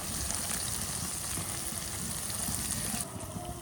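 Eggplant frying in spiced oil, with mashed garlic among the spices, for a Bengali eggplant curry. A steady, loud, even sizzle runs throughout and eases off slightly near the end, with no talk.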